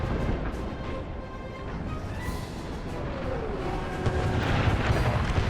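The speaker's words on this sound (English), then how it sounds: "Union's moved up some of their artillery" Artillery fire in an American Civil War battle game, heard as a dense, continuous rumble of distant cannon booms and battlefield noise that swells slightly toward the end.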